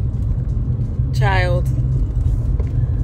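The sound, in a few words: car interior rumble while driving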